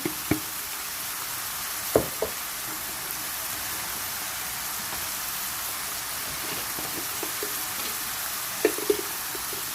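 Spiced minced meat (qeema) with fenugreek leaves, crushed red chillies and roasted cumin sizzles steadily in a pan, a soft continuous frying hiss with a few sharp pops and clicks scattered through it.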